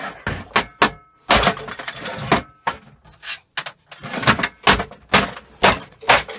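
A hammer strikes a hair dryer hood again and again, sharp metallic bangs in an irregular run of blows. The hits are loud and close, with clattering between them.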